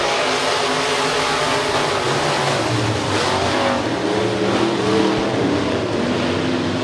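Northern Sport Modified race cars roar out of turn four at the start of a heat race at US 30 Speedway, a loud, continuous wall of engine noise with rising revs from the pack and no talk.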